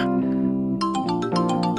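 A mobile phone rings with a short electronic melody of clear, tuned notes, a sustained tone followed by a quick run of brighter chiming pulses, close and alone without talk.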